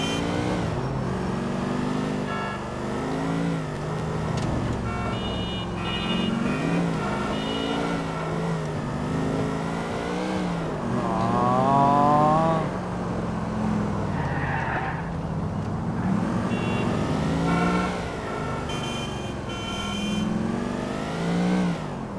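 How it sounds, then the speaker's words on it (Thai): Speeding taxi in Grand Theft Auto IV, its engine revving and tires skidding in a steady, loud roar that continues throughout, with game music or effects layered over it and no talking. "อ่าแท็กซี่ซิ่ง"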